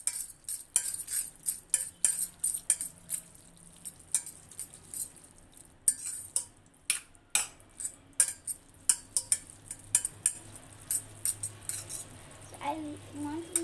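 Spaghetti tossed with tomato ketchup in a bowl is stirred by a utensil that knocks and scrapes in quick irregular clinks, close and fairly quiet.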